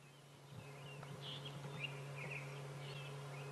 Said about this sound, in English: Couple of drongos,